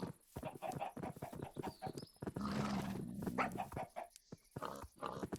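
Minecraft game sounds of a horse alongside other farm animals in a crowded livestock pen: a short whinny and hoof clatter among dog, chicken and pig noises, with repeated animal calls throughout.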